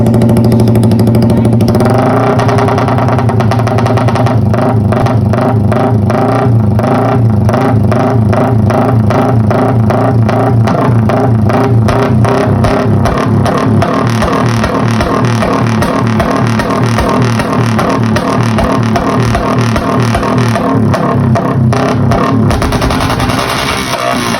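Motorcycle engine with an open KOU exhaust pipe idling and revving at low RPM, a loud, steady rapid firing pulse filling the whole stretch with a sputtering, crackling character and no talking.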